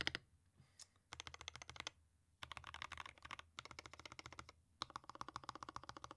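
Mechanical keystrokes clack on a RAMA WORKS M65-B keyboard fitted with Alpaca switches, close and crisp, arriving in quick bursts of typing separated by brief pauses.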